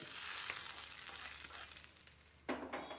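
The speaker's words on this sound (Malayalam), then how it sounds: "കടുക് താളിച്ച് ഇതിലേക്ക് ഒഴിക്കാം" Tempered mustard seeds in hot oil poured into curd crackle and sizzle steadily, with a sharp louder burst of sizzling near the end, close and alone.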